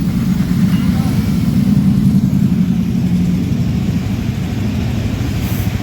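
A Yamaha Vixion R motorcycle with an ER-1 error code, its engine running in a steady low rumble close by after starting, with no talk.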